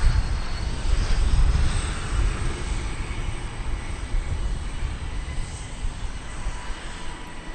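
A wide-body jumbo jet roars steadily at DFW Airport, a broad loud engine rush that stays close and constant, slowly easing off over several seconds.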